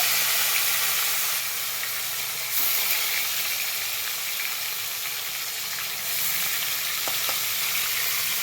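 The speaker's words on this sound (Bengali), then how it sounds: "মাছগুলো সুন্দর করে ভেজে নেব" Loud, continuous sizzling of catla fish frying in hot oil, a dense steady hiss with slight shifts in level and no talking.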